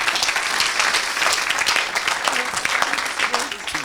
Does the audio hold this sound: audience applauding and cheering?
yes